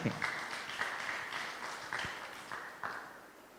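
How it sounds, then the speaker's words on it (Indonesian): A church congregation gives applause during a sermon, fairly faint, steady clapping with a few sharper claps standing out and a voice faintly audible over it. "Boleh kasih tepuk tangan dong buat teman-teman kita ini"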